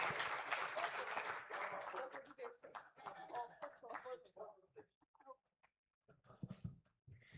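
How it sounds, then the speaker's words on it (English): Audience clapping for panel speakers after a fireside chat fades out within a few seconds, then gives way to scattered murmurs and voices talking in the room. "A round of applause for our speakers,"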